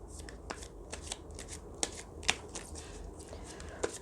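Lenormand cards are shuffled close by, producing a soft, steady riffling with crisp little snaps and flicks scattered through it.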